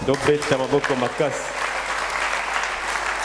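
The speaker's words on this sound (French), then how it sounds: "Acclamons très fort" Church congregation applauding and cheering during a sermon, dense clapping swelling after a brief burst of voices at the start and holding steady to the end.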